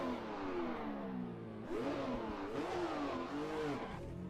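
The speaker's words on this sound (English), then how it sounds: "Let me know if the engine is too loud." A Ferrari 312F1 Formula One car, the 1967 season model, runs in a racing video game on a South African Grand Prix circuit. Its engine hums steadily, then revs up and down in several quick swells, moderately quiet and alone.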